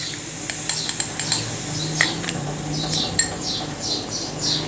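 A spoon scoops salt into rice and moong dal papad dough, giving a few light metallic clinks and taps up close, followed by soft scraping and grainy rustles.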